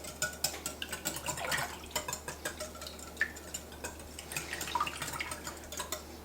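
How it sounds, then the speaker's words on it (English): Eggs and whole milk whisked together in a bowl for quiche, giving a steady run of quick clinking taps and wet sloshing, close by and fairly quiet, with no talking. "And we're going to whisk them all together."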